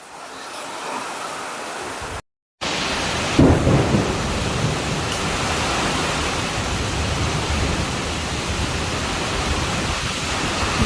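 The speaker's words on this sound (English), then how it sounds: "enjoy the rain" Heavy rain pours steadily outside a barn during a thunderstorm, with a loud thunder crack and rumble near the start and a continuous wash of rainfall throughout; no one speaks.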